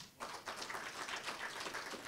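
Faint, distant applause from an audience at FAMA's 55th anniversary ceremony greets the FAMA Director-General, a soft, continuous patter of clapping with no talk.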